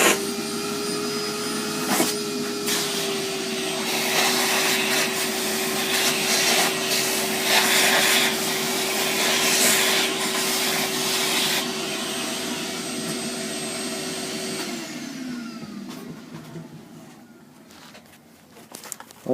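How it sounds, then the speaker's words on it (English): A vacuum cleaner sucks up wood dust after power carving a serving tray. It gives a loud, steady motor whine with rattling and crackling as debris is drawn in, then winds down and cuts off near the end. "A quick hoover."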